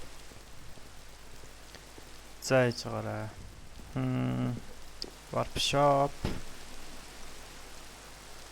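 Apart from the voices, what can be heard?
rain in a video game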